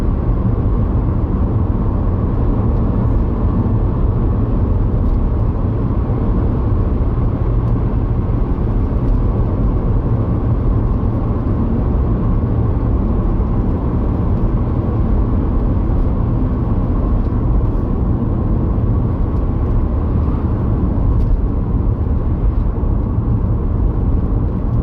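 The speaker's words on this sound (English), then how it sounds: "driving over Wilsford level crossing" A vehicle rolls steadily over the Wilsford level crossing, heard as a continuous low road rumble and engine drone, loud and even throughout with no talk.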